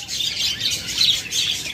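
Caged budgerigars and lovebirds chirp and squawk together in a dense, continuous high twittering, close by and fairly loud.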